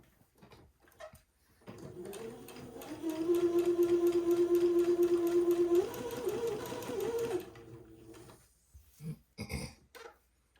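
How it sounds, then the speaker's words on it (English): A sewing machine runs a first pass of a tiny French seam in green thread, a close mechanical whir rising and holding steady for several seconds before stopping, followed by soft handling knocks. "I've got my green thread back in the sewing machine"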